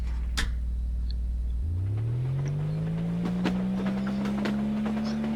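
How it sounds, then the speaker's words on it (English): A minecart in the video game Obduction starts up with a low rumble that rises into a steady, climbing mechanical whine and then holds an even drone, with a few faint clicks and knocks along the ride. "be off on a minecart ride"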